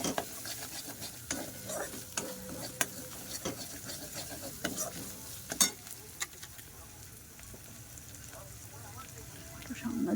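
Dahi chana, a chickpea masala with a little Kashmiri chilli powder and added water, cooks down in a pan with a steady soft sizzle, while a spoon repeatedly scrapes and stirs, loud knocks punctuating it throughout.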